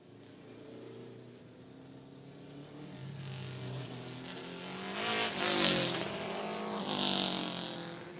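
Baby Grand race cars circling Auburndale Speedway on a night of the Winter Showdown series, engines droning and swelling as cars pass close, with a tire-squeal-like whine rising near the end.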